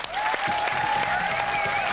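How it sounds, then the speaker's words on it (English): Studio audience applauding a guest on a late-night comedy show, steady dense clapping filling the room, with a faint voice over it. "Let's have a round of applause,"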